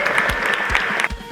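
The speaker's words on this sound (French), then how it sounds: "Une bonne main d'applaudissements pour Kubota." A crowd at an outdoor ice cross race claps steadily, a dense wash of applause that continues throughout and eases off slightly at the end.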